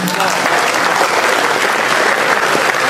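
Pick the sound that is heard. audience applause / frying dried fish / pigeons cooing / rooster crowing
audience applause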